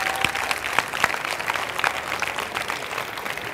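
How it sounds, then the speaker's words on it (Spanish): A conference audience bursts into dense, continuous applause, a steady wash of many hands clapping at moderate volume with a few sharper claps standing out. "Un aplauso para todos ustedes porque esto es una fiesta."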